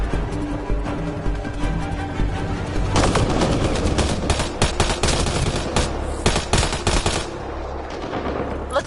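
Loud, sustained gunfire from the Mass Effect Andromeda video game, dense rapid bursts of automatic weapons with sharp shot transients throughout, rising in intensity after the first few seconds and continuing without pause.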